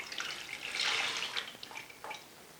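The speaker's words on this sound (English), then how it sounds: "I'm just going to take it and drain it into the cup." Water drains from a home-brewing hose into a cup in a short splashy trickle that swells, then breaks into a few separate drips and small pours, close and alone.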